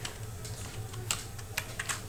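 Quick, irregular clicking of keys on a computer keyboard while an HTML comment is typed, close and fairly quiet, with no voices.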